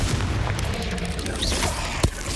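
Confringo fire spell from Hogwarts Legacy bursts with a booming explosive blast amid a continuous game soundscape, followed by a sharp punchy hit near the end.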